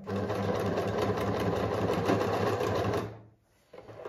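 Close and loud, a Pfaff Select 2.0 sewing machine stitches in a fast, even mechanical rhythm for about three seconds, then halts briefly before a soft whir resumes.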